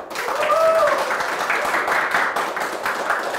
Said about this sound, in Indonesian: Boleh minta tepuk tangannya dong?